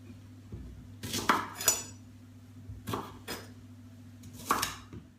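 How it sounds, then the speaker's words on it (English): A knife chopping parsnip into smaller pieces for a vegan roast dinner: a few sparse, light taps and clinks of the blade on the board at irregular intervals, close by and fairly quiet, with no talk. "Same with the parsnip, just cut it into smaller pieces"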